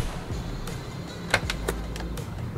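A Mercedes AMG G63 SUV door shuts with a sharp metallic clack, then a second clunk follows a moment later, over a steady low rumble.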